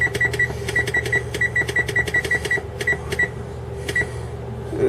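An electric oven's timer beeps in quick, uneven runs of short high chirps as it is set for about 45 minutes at 350 degrees, heard close over a steady low kitchen hum.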